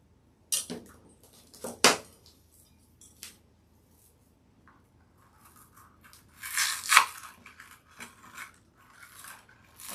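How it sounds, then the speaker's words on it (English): Scissors or snips cut a small pine cone off a Christmas table centerpiece decoration, giving a few sharp snipping and crackling bursts spread apart, near and fairly quiet, with no talk. "I'm going to cut this little pine cone off."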